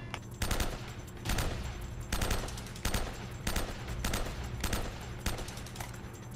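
Repeated bursts of automatic gunfire from a gun in the video game Uncharted, about seven loud rapid volleys spaced roughly a second apart, close and dominant with no talking.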